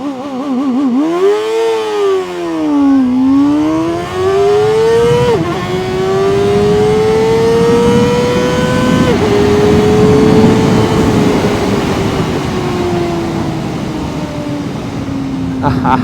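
Kove 450 RR and Kawasaki ZX-4RR motorcycles launch hard, engine pitch sweeping up steeply through several gear changes with brief dips between shifts, loud and close, with some talk mixed in.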